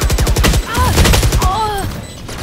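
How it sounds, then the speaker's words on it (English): Grenade blast in the Valorant shooter game, heard as a burst of loud, rapid explosive cracks and pops with game sound effects, a voice talking over part of it. "Bomb grenade out."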